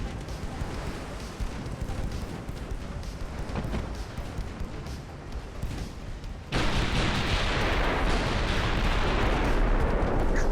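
Warship main battery guns firing in Ultimate Admiral: Dreadnoughts, a dense, continuous rumbling barrage of heavy booms that grows louder and harsher partway through, with no talking.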